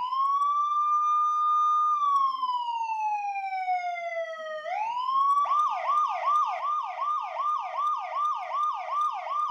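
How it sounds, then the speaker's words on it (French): A Los Angeles police electric motorcycle siren sounds loud and close: first a slow rising-and-falling wail, then a rapid repeating yelp cycle that continues to the end. "comme par exemple cette sirène."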